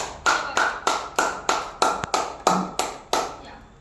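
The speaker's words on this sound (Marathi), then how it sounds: "टाळ्या वाजवा" A short round of clapping in a steady rhythm, about ten distinct claps, close and clear with no talking.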